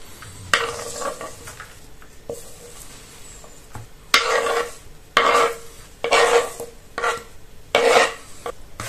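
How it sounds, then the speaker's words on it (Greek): A spoon stirs fresh mint, dill and parsley into a zucchini pie filling in a bowl, making repeated scraping, squelching strokes in irregular bursts, close up, with no voices. "Ανακατεύουμε."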